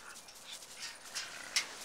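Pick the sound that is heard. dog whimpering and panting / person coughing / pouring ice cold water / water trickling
dog whimpering and panting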